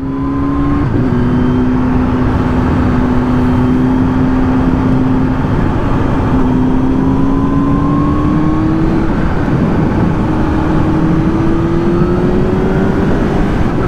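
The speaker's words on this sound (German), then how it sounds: "Es beschleunigt extremst druckvoll." An Exeet, a quad-like motor vehicle without power steering, pulls away hard in town with a loud, close engine note whose pitch climbs repeatedly through the gears, steady and alone without talk.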